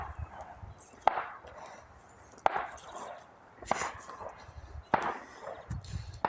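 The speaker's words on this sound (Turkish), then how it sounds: "Ramazan geliyor diye arkadaşlar böyle silah atanlar da oluyor" In the Black Sea countryside, celebratory gunfire for the coming Ramadan sounds as four sharp distant bangs at roughly even intervals, each with a short echo, over a quiet outdoor background.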